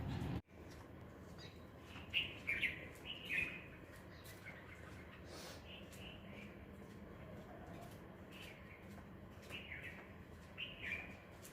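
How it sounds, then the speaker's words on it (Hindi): Small birds chirp intermittently in the distance over a faint early-morning outdoor background in India, with scattered short tweets and a few brief clusters. "सुना आपने चिड़ियों की चहचहाहट?"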